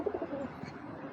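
Budapest pigeons coo softly in a low, murmuring burst, close and quiet, with no talking.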